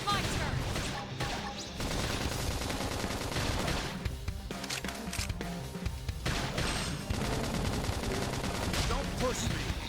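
Dense gunfire and crashing blasts from a battle in Xenoblade Chronicles X, loud and continuous under game music and effects, with a voice speaking intermittently.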